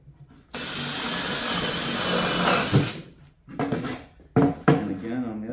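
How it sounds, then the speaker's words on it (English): Power drill boring a small pilot hole into MDF board, a steady whirring grind for a few seconds, followed by shorter bursts and handling knocks, with someone talking nearby. "So I'm just going to drill a little one about 1 inch away from the end."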